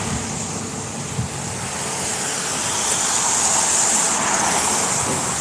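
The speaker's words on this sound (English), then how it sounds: "When the traffic comes, it seems like it comes all at once." Rush-hour road traffic near a hospital streams past as a steady wash of tyre and engine noise that grows slightly louder midway, heard alone without talking.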